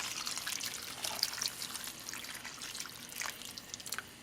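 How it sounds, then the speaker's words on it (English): Water poured into a pot of stewed beef for a Mexican chile colorado with potatoes, a soft, steady trickle and splash at low level, with no talk. "I'm going to add enough water to cover our beef."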